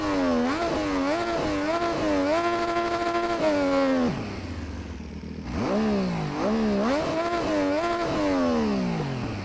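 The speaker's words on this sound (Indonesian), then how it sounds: "Jadi kita geber dulu coba ya." An MV Agusta Brutale 800 RR motorcycle engine in the video game Ride 4 revs hard in rising and falling sweeps, dropping to a brief idle midway before roaring up again, loud and close.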